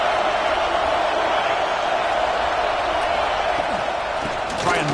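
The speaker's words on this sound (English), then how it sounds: "And here comes the noise. This crowd is trying to inspire this defense to make a big red zone stop." Stadium crowd at a football game roaring during a defensive red-zone stand, a dense, steady wall of cheering noise throughout, with a commentator's voice audible over it.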